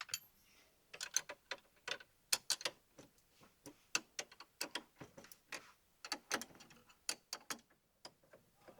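A lock ring compressor tool is worked off the ignition tumbler of an OBS Chevy or GMC truck, giving a quiet run of close, sharp metallic clicks and ratcheting ticks in irregular bursts, with no talking.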